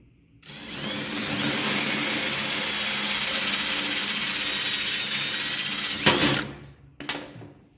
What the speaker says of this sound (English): Right now we're drilling out with about 204.